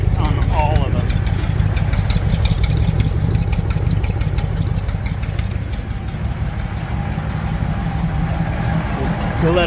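A 1936 Ford 8BA flathead V8, long stored in a barn, idles loudly and steadily up close with an even low rumble. A voice speaks over it for much of the time.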